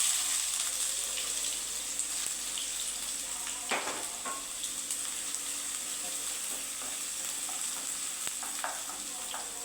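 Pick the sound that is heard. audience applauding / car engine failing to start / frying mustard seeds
frying mustard seeds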